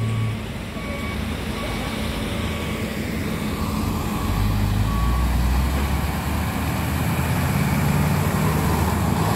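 A truck grinds up a steep incline on a road with a heavy, steady engine drone, while a reversing alarm beeps faintly and repeatedly over the rumble from a moderate distance.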